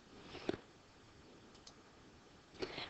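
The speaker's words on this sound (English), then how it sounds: "Or you can also click the properties tab here." A computer mouse clicks twice, short and close, with a softer tick in between, over a faint steady hiss and no voices.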